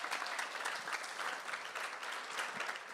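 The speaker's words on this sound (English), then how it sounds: "Let's give Abby a round of applause." Steady audience applause at a church sing-a-thon event, a dense even patter of many hands clapping for a few seconds without pause.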